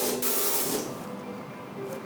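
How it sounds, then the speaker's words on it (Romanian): Spray deodorant hisses from a can in a short, close burst, then continues as a softer, steady spray. "finisezi cu spray"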